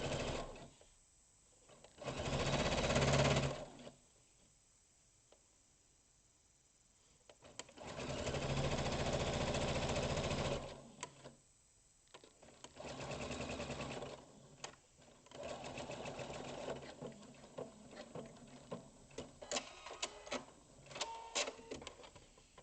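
A sewing machine runs in several bursts while stitching a straight quarter-inch seam along the edge of a cushion made from pre-cut fabric, loud whirring runs separated by pauses and light handling clicks.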